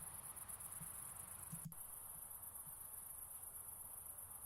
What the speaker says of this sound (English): Crickets night ambience.